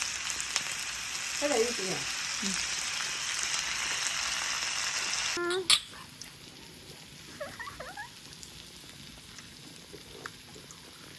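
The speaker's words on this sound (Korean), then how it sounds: "김치하고 같이 볶아." Kimchi being stir-fried in a pan, soft sizzling and stirring clatter for about five seconds before it quiets, with faint voices and light scraping afterward.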